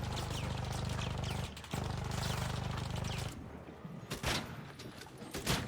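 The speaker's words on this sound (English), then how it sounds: "You get like 3 shots off each time." Gunfire from a weapon in the video game ARC Raiders, starting as a dense, steady burst of rapid shots, then breaking into a few louder, separate cracks against a busy game soundscape.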